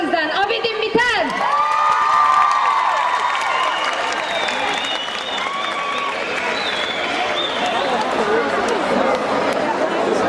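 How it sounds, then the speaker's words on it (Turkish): A festival audience applauds and cheers for the final performer at a Dersim festival, with steady, loud clapping and scattered whistles and shouts lasting throughout, voices mixed in. "Alkışlar sizden."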